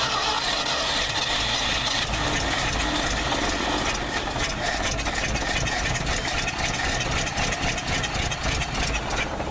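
A Ford's carbureted engine, choke fully open, runs at a steady, loud idle with a dense mechanical rumble and rattle throughout, no voices heard.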